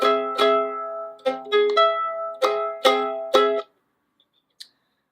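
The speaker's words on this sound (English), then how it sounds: "If we take our perfect fifth and go up a half step, that is an augmented fifth." Single sustained notes played one after another, a perfect fifth raised by a half step to form an augmented fifth, with clear struck attacks, close and moderately loud, then silence.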